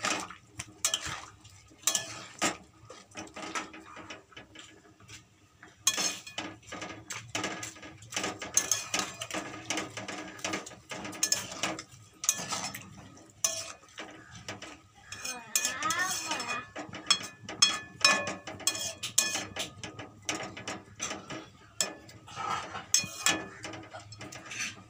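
Metal pots, lids and utensils clatter and scrape in a home kitchen while Malabar spinach cooks with red lentils, a steady run of close clinks, knocks and stirring sounds with no talk.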